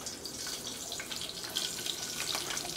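Tap water runs steadily into a basin while rice and onions are washed by hand, a soft continuous splashing with small sloshing bursts, fairly quiet and without talk.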